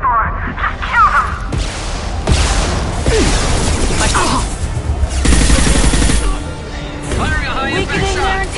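A high impact weakening shot fires in the Mass Effect video game, with sharp bursts and booming impacts amid scattered crashes and mechanical clatter, loud and close, while a voice talks over the action.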